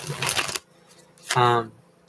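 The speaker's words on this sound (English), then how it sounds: "Anyways, back to the shuffling. Even though I do overhand, there's just a part of me that's like, it's not a good shuffle." Playing cards are shuffled overhand in a quick papery riffling burst, then a pause, followed by a person speaking briefly nearby.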